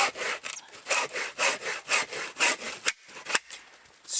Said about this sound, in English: I'm not just doing a little sawing motion with my wrists